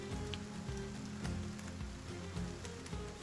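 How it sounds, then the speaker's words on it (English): Continuous ambient rain from the video game Battle Brothers with the Legends mod, a soft, even hiss of falling drops, with low tonal background sound running underneath. "the ambiotic noise of the rain falling in this game"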